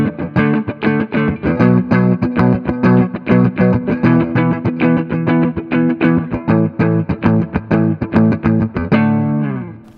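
Heavily distorted electric guitar chugging power chords in a steady driving rhythm, loud and alone, ending on a held ringing chord.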